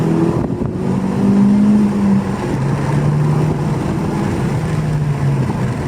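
A 10th-generation Honda Civic Si with bolt-on upgrades and an upgraded turbo pulls hard in second gear, its loud engine drone climbing steadily in pitch with a brief dip at the shift, heard from inside the cabin.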